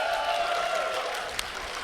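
A crowd at a BlazBlue Central Fiction tournament applauds and cheers in a steady, dense wash of sustained clapping and voices with a brief sharp clap near the end.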